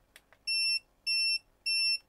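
An electronic speed controller on an Arrma Fury RC car beeps three times while its AVC is set, giving evenly spaced, clear, high-pitched tones after a couple of soft clicks.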